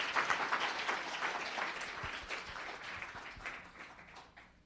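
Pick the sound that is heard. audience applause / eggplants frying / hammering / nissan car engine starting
audience applause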